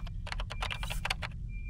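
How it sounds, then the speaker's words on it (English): Rapid keyboard typing in the sci-fi video game Aliens: Dark Descent, a quick run of about a dozen clicky keystrokes over a low steady game drone, ending with a faint tone. "Get working on that keyboard"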